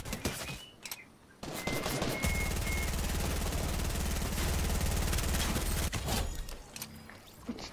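Rapid automatic gunfire in a video game rattles in a long, dense burst, preceded by a few single shots and a short pause, with scattered shots trailing after.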